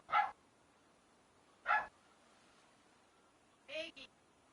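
Several dogs bark at a package being delivered to the house: three short, separated bark bursts, the last a quick double, sounding somewhat distant and fairly quiet against a low background.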